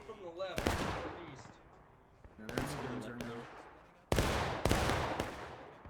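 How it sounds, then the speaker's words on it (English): Musket volleys in the Civil War game War of Rights, three sharp, loud cracks spaced a couple of seconds apart, each with a ringing tail, over a quiet background. "A couple nice shots there by the 19th."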